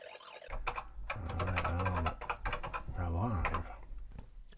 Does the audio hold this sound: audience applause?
no